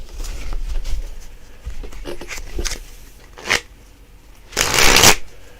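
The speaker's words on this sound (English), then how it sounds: "Now what we're going to do is we're going to mix up the pack." A deck of playing cards is shuffled by hand, giving short riffling bursts and soft flicks separated by brief pauses, with a longer, louder riffle near the end.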